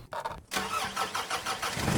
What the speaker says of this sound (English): And you start your car.